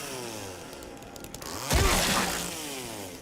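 A chainsaw in the video game Silent Hill 2 Remake whines and revs up, its buzzing engine tone rising sharply to a louder, harsh roar partway through before easing back, no speech.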